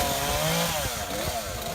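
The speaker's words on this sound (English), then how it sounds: "Tony Santiago found himself cutting through wood with a chainsaw outside the now battered home he grew up in," A chainsaw cuts through wood outside a house battered by a tornado, a steady droning whine that shifts in pitch as the blade bites, loud and continuous across the whole moment.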